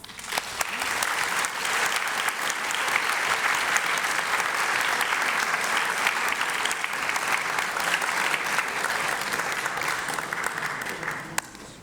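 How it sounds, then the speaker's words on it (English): Audience applause at a city hall archive launch event as departing mayors are ushered out, a long, even roar of many hands clapping that builds quickly, holds for around ten seconds, then cuts off. "Let's maybe usher them out with some applause"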